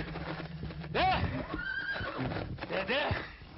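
Horses whinny loudly in a snowy mountain setting, one sharp neigh near the middle and another toward the end, with clip-clop and faint voices underneath.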